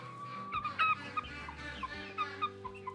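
A Jersey Giant chicken clucks and murmurs in a barn, its short soft calls repeating irregularly over a steady low background hum, close by with no one speaking.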